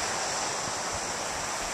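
Sea water washing in a small gravel beach cove makes a steady, broad hiss of surf, constant and fairly loud throughout with no distinct wave breaks and no voices.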